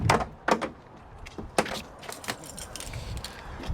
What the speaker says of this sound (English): Taking the keys out,